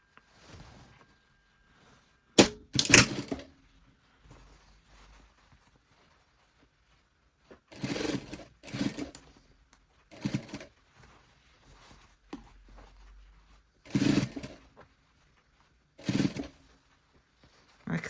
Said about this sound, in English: I can actually sew over the machine stitching that I've just done